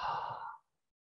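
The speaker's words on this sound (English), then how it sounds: "just breathe and listen to the sound of air coming in and air moving out" A single slow human exhalation, close and breathy, trailing off after about half a second into silence during a guided breathing exercise.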